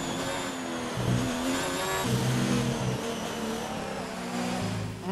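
A Formula 1 car in the F1 2019 racing game on a Q2 qualifying lap, its engine screaming loud and close, with steady high revs and pitch shifts at gear changes throughout.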